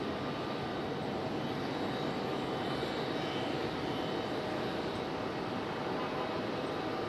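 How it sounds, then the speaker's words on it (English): Boeing 777 jet pushing back at Raleigh Durham airport, a steady, moderate engine hum and broadband whine held evenly at a distance, unchanging throughout with no voices. "777 pushing back"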